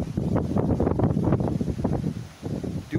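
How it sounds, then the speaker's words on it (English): Gusty wind buffets the microphone in loud, uneven rushes, with a brief lull near the end before it surges again. "it is windy out here today"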